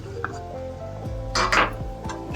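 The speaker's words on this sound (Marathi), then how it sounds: "आता हे ढवळून घेऊ." A spoon stirs turmeric into a pot of cowpea and red amaranth curry, giving a few soft scraping, clinking strokes that peak midway over steady tonal background music.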